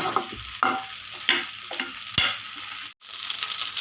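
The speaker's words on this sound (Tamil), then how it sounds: "இந்த மாதிரி கிளறி விட்டு மட்டன் சுவையில் வறுத்த சாப்பாடு ரெடி" Mutton masala fried rice is stirred in a hot pan, with a constant sizzle and a spatula scraping in repeated close strokes about every half second, followed by a brief pause.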